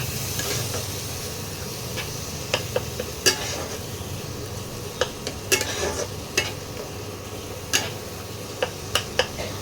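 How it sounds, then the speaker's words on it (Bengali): Spice paste for katla fish kalia cooking down with a little water in a pan, a steady sizzle with frequent sharp ticks and scraping spoon knocks spread across the stretch, close by and with no talk. "জল দিয়ে মশলাটা কষাবো।"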